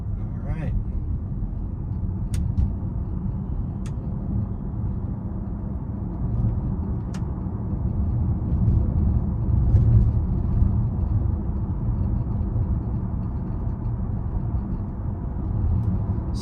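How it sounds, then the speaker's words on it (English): Cabin of a Fisker Ocean One electric car while driving: a low, steady road rumble that swells slightly midway, quiet overall with a few faint ticks. "So far, the car seems pretty quiet while driving on the interior."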